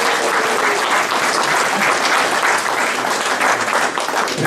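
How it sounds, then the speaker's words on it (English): Audience applause at a mayoral prayer breakfast in Pittsworth, a steady, full wash of many hands clapping that holds evenly throughout without any talk over it. "can we give them a collective round of applause?"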